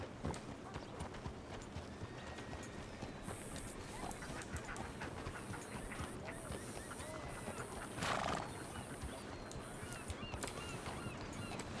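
Horse in Red Dead Redemption, with steady clip-clop of hooves over a busy, rustling background and a neigh around the middle, all fairly faint.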